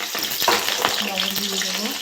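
Potatoes frying in hot oil in a pan for a Bengali potol alur jhol, a steady close sizzle with stirring scrapes, continuous for two seconds with no talk.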